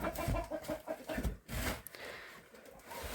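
Chickens cluck and murmur nearby in a chicken coop in short, irregular bursts, with scratching and shuffling sounds between the calls.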